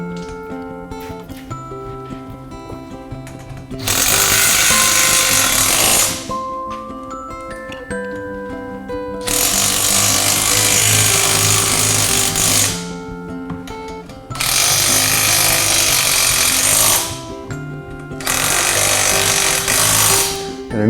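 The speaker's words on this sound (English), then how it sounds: "an impact wrench is preferred on these operations, but a regular ratchet wrench can be used as well" An impact wrench drives bolts into the steel legs of a science table. Four loud, rattling bursts of about three seconds each are separated by short gaps, with a soft tonal background underneath.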